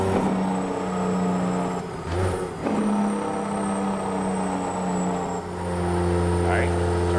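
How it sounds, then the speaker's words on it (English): Late 1970s Freightliner FLA truck hauling steel in Washington, its Jake brake engaged, giving a loud sustained low engine drone and rumble that runs steadily throughout with a brief dip partway. "Hit that Jake brake for me."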